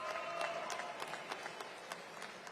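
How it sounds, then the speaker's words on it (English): Applause from a crowd at Mayor Bowser's remarks after her decision not to seek reelection, moderately loud and thinning toward the end, with a few sharper individual claps standing out. "Give Kenyon and Phil a big round of applause."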